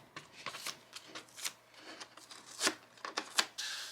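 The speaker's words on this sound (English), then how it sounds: "So I'm going to bend the mat and just peel these stickers off." Vinyl stickers peeled off a bent Cricut cutting mat: close, crackly tearing and ripping bursts in uneven pulls, louder strips near the end, with no talking.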